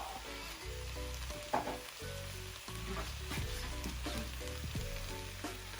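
Rice tipped into a pan of frying prawns gives a steady, close sizzle that surges briefly as it lands, with faint tones of music playing underneath.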